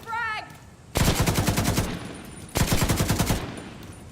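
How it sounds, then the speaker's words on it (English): Gunfire during a frag grenade throw in The Division 2 video game: two loud, close bursts of rapid automatic fire, each about a second long, separated by a short pause, with a brief voice at the start. "Throwing a frag!"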